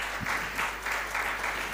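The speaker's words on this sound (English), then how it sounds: "Really big round of applause to him." Applause from an audience at an educational mentoring event in Mumbai honors an ultra marathon runner. It is a short, dense burst of clapping that rises and falls in soft waves.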